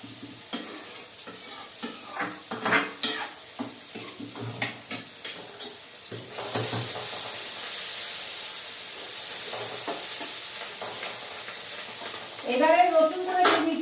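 Garlic goes into a hot pan while a spinach dal is cooked, followed by sizzling and a run of quick, rhythmic stirring scrapes. Frying hiss then carries on steadily, and a voice speaks over the cooking.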